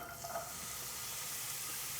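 Diced white onions sizzle in hot avocado oil in a saute pan over medium heat, a steady, close, hissing fry that holds constant, with a faint stir early on.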